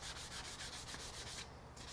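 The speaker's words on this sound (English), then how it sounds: "I have spent an incredible amount of time already sanding on this guitar" Steady, rhythmic rubbing of 600-grit sandpaper over an electric guitar body, close and soft, with even back-and-forth strokes and a brief pause near the end, no talking.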